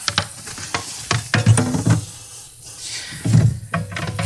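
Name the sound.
food sizzling and frying in oiled pan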